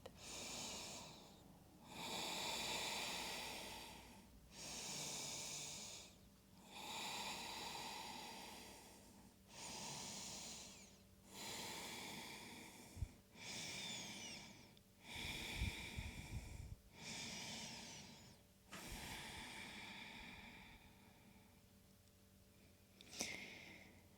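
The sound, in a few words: deep breathing during yoga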